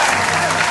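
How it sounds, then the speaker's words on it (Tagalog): Brief burst of hands clapping together, dense and continuous for under a second. "Palakpak."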